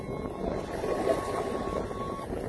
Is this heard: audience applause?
no